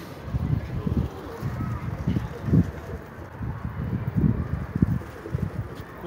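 Pigeons coo in low, repeated murmurs close by, with wind and rustling around them, while people talk at the same time.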